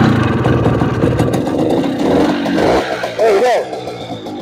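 Vintage 60cc two-stroke scooter engine sputters and revs nearby with an uneven, rough buzzing, then cuts out briefly before catching again; someone speaks over it.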